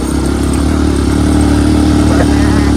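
A motorcycle engine runs loud and steady at close range, a constant low drone that stays even throughout with no clear rise or fall, while voices carry faintly over it.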